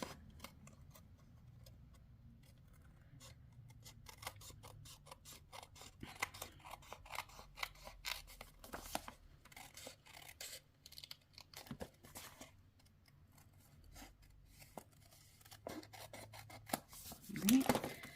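Scissors snipping around the edge of a paper Stampin' Up! spring card, a steady run of small close crisp cuts and ticks over a quiet background, with a slightly louder rustle near the end.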